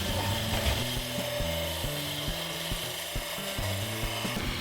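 A wood lathe turns a maple burl tenon, giving a steady droning hum with a scraping, rasping cut that holds evenly throughout, close and continuous with no talk.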